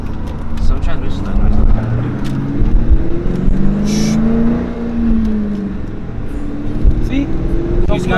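A 2001 Ford Mustang Cobra drives with engine rumble and revving. A whining transmission tone rises and falls through the middle while people talk over it.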